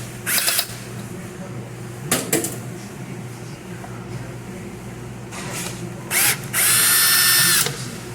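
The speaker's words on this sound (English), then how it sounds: "now you're going to undo these screws and pull this piece out" A power drill backs screws out of a hot well during a repair, in several short whirring bursts and one longer run near the end, close and loud against a quiet room.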